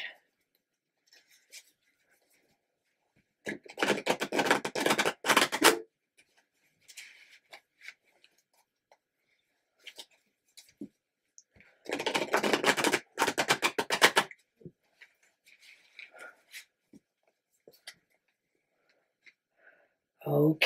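Tarot cards are shuffled by hand in two dense bursts of rapid riffling, close and crisp, with quieter handling sounds scattered between them.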